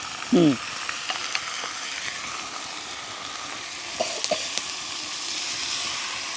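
Prawns hitting a pan of frying onions and green chillies, giving a steady, close hiss of sizzling oil with a few faint clicks and one brief high chirp near the start, no speech.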